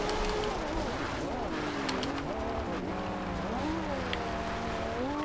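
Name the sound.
Ferrari LaFerrari engine accelerating in video game Forza Horizon 2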